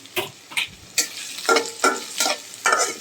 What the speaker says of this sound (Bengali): পেঁয়াজটা ভালো করে ভেজে নিব বেরেস্তা করে নিব